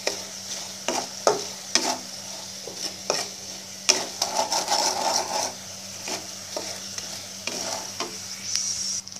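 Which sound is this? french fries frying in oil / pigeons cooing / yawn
french fries frying in oil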